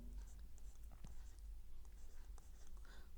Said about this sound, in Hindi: अब मैं यहाँ लिखता हूँ 4